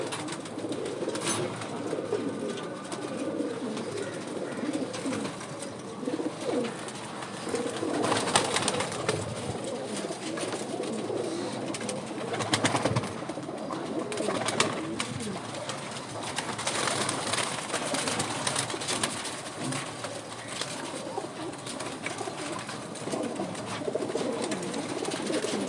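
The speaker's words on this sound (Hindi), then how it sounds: "तो ये कबूतर बाजरा ही कबूतर है" Pigeons cooing, a mix of soft repeated coos and bird calls over a busy rustling background, continuous through the long stretch, moderately near with no one talking.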